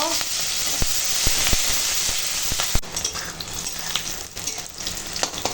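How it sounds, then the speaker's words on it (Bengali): Chopped onions and green chillies fry in hot oil left from frying okra, a loud, dense sizzle with a few sharp clicks of utensils early on, then a steadier crackle, close up and with no talk. "ওই তেলেই এখন দিয়ে দেবো কেটে রাখা পেঁয়াজ আর কাঁচা লঙ্কা"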